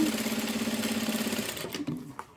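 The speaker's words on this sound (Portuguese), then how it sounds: "vou fazer uma costura bem na beiradinha" A sewing machine stitches a half-centimetre seam on a quilt-as-you-go project with a fast, rhythmic, close whir, then slows and stops near the end with a few small clicks.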